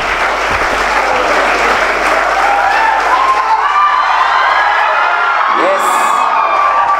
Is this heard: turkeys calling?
no